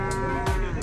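A cow lows once, a short, loud, close moo with a rich harmonic tone, over low background noise.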